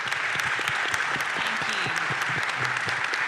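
Warm round of audience applause at a weekly civic club meeting honoring a sergeant, chief and mayor, steady dense clapping with distinct individual claps and a faint voice underneath.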